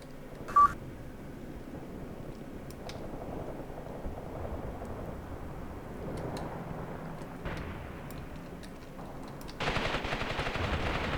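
Guns firing at tanks in Graviteam Tactics, with scattered distant shots and rattling bursts over a low battlefield rumble, a short beep near the start, and a louder sustained burst of fire toward the end.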